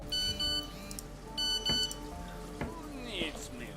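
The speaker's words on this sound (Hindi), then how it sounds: "ओ ये तो पापा की मोबाइल की आवाज़ थी।" A dad's mobile phone rings inside a video game, two bursts of electronic beeping tones separated by a pause, with soft clicks and in-game ambience between them.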